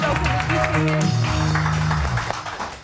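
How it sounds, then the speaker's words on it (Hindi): Studio audience on a Pakistani morning TV show applauding a guest, broadband clapping sustained under steady background music and voices, fading toward the end. "जोरदार ताली डॉक्टर बिल्किस"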